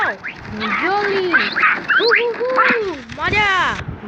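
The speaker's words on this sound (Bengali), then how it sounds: "আমার পাখি এতক্ষণ আমি এইসব পাখি ছাড়ছি" Pet macaws being let out give a run of loud, close squawks and harsh calls, overlapping and rising and falling, with a voice speaking among them.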